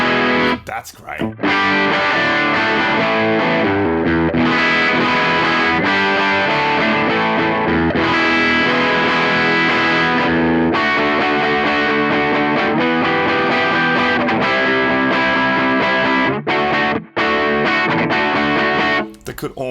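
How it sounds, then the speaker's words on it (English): Electric guitar played through a Morning Glory boutique overdrive capture on a ToneX amp modeler, steady distorted chords and riffs ringing loud and continuous with brief pauses near the start and end. "Let's check out a few Morning Glory sounds."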